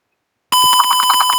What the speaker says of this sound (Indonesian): buzzer-nya bakal nyala, otomatis nyala.